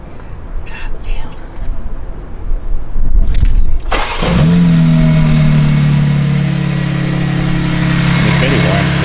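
A stock 2021 Toyota Supra engine snaps into a sharp, loud rev, then settles into a steady, droning high idle, with voices chatting just before.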